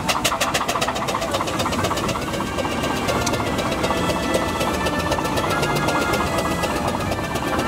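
A steam traction engine, number 12, drives across very wet grass at the Whitwell steam event, its wheels picking up water. It gives a loud, steady, rhythmic knocking throughout, close by, with no talk.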